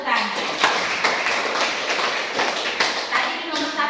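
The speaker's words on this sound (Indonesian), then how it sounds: "Tepuk tangan." A classroom of students claps hands in quick, uneven rounds of taps and claps, moderately close, with voices talking over the clapping.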